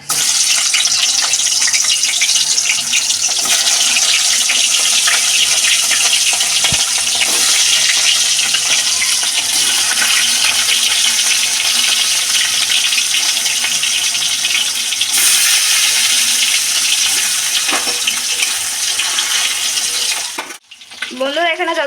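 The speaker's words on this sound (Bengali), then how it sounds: "তেলাপিয়া মাছটা ভেজে নেব।" Tilapia fish frying in hot mustard oil in a karahi, a loud, steady, close sizzle with bubbling and crackle that runs continuously for about twenty seconds before a brief dip and clatter at the end.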